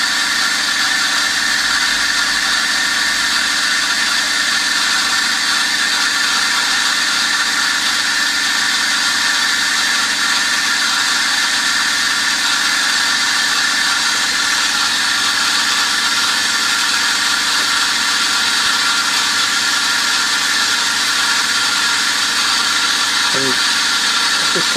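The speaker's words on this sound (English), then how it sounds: "what it's doing now is charging up the pressure vessel" An ECP Group Pumpstat pump runs steadily as it charges a pressure vessel, a loud, constant mechanical drone and whine that holds unchanged for the whole stretch, ending in a brief squeak.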